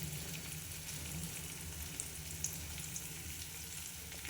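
Masala sizzling and frying over stuffed brinjal in a pan at medium heat, a steady close hiss with faint crackles and a few soft stirring knocks, no talking.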